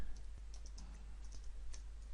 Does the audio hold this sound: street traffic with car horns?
no